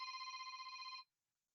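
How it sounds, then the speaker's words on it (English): A phone rings during an online lecture, a faint, steady electronic trill with a rapid warble, lasting about a second before cutting off into silence. "I have a phone ringing."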